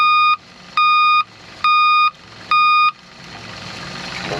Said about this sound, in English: So there's the high water alarm.